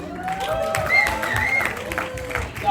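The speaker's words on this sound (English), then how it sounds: "Can we get another round of applause for the ASU group?" At an anniversary celebration, an audience applauds a group's performance, a steady spread of clapping and crowd noise with voices and cheers sounding over it throughout.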